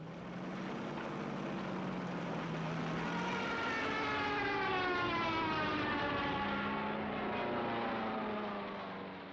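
A WWII Soviet Red Air Force propeller aircraft drones steadily overhead, its engine tone rising and falling as it passes at moderate distance, with no voices.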